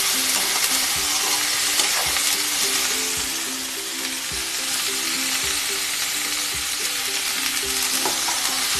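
Masala bhindi (okra) frying in a pan hisses in a dense, continuous sizzle, with repeated scraping strokes of a spatula stirring it throughout.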